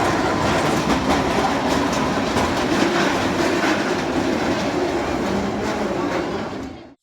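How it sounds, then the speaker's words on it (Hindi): A children's ride train at a flower show rushes past close by, a loud, continuous rattling clatter of wheels on track that holds steady for several seconds before cutting off abruptly. "सुना कैसी तेज रफ्तारी से ट्रेन गुजर के गई है, शोर शराबा भी करके।"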